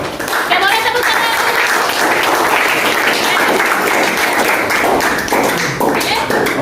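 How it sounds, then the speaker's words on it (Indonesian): A classroom group in an Indonesian school breaks into applause after a presentation, a dense steady clapping from many hands that is close and loud and lasts throughout. "boleh tepuk tangan"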